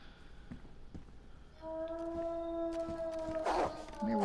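Wolves howl in the video game DayZ, long rising and sustained tones at moderate distance over faint footsteps and taps, with a louder close sound near the end.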